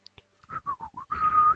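A person whistling a short tune up close: a couple of tiny high chirps, then several clear rising and falling notes ending in a longer held tone, all within about a second and a half.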